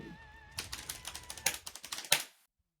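Quick, crisp computer keyboard typing, a rapid run of separate key clicks with one sharper final strike before stopping, heard close and alone over a faint background tone.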